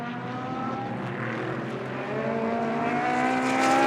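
GT race cars chasing a Ferrari on a circuit in Moscow. Engine tones rise and sustain, climbing steadily in pitch and loudness as the cars approach, with no voices over them.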